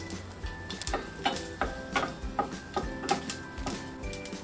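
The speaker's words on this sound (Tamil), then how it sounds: "கடுகு நல்லா பொரிஞ்ச வாட்டிக்கு வந்து பெருங்காயம் பெருங்காயத்துக்கு அடுத்து வந்து காஞ்ச மிளகாய்" Mustard seeds, asafoetida and dried red chillies frying in hot oil for a rasam tempering, giving a steady close sizzle broken by repeated crackles and light stirring knocks, with a faint tone humming underneath.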